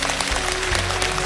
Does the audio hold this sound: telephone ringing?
no